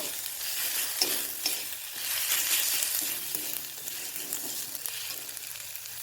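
Spices with turmeric and chili powder sizzling and being stirred with a fish head in a pan, a steady bright frying hiss broken by repeated scraping strokes, close and continuous with no talk.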